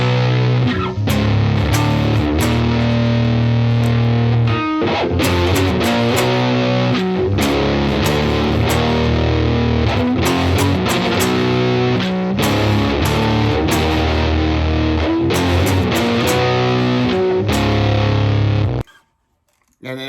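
Heavily distorted 8-string baritone Telecaster plays loud, thick low riffs with chugging chords, continuous for about eighteen seconds before cutting off abruptly.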